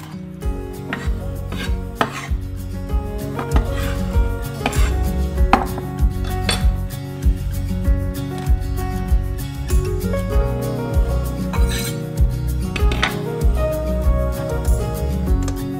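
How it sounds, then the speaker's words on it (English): A knife chops onions on a cutting board in quick, steady strokes, each a sharp close tap, continuing throughout with no talking. "I really like this bigger knife for chopping onions."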